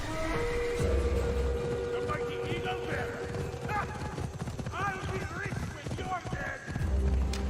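Hoofbeats of a horse galloping fast in a video game clatter steadily under continuous talk and game sound effects throughout.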